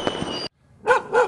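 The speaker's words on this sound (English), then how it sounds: "barking of a dog," A dog barks twice in quick succession, close and clear, after a brief pause and a short burst of other noise at the start.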